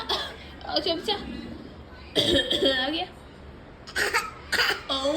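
Someone coughs in several harsh bursts, a pair of rough coughs then more a moment later, close and loud, between moments of talk.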